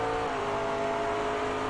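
A McLaren race car drives on a track, its engine a steady, sustained drone heard in a race broadcast.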